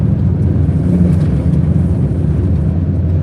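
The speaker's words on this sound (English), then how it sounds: "Look at the wind, look at the blowing grass." Strong wind from a supercell's rear flank downdraft near Wilcox, Nebraska roars as a loud, steady low rumble buffeting the microphone, continuous and close, with no talking.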